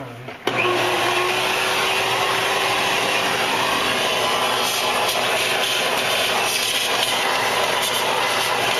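Shop vacuum sucking debris out of the intake of a 1959 Apache engine, switching on abruptly and then roaring loud and steady and close up.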